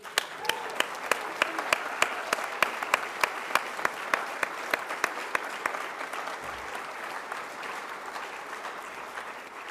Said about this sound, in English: how about a round of applause for that beautiful planet?